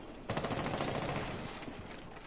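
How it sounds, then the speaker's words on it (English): A rapid burst of automatic gunfire from a shooter video game rattles out, a continuous fusillade lasting a second or so before tapering into scattered shots, fairly close. "he's just shooting at the window"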